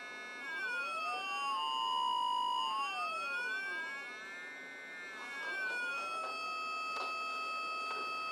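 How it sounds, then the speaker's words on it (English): Electric guitar run through a DIY embedded digital signal processor with the sample rate slowed drastically and delays added, giving gliding, siren-like pitch sweeps with a harsh, low-resolution, aliased tone, moderately loud with no voices. "in this one we slow the sample rate down significantly with delays, giving a very, very low resolution sound"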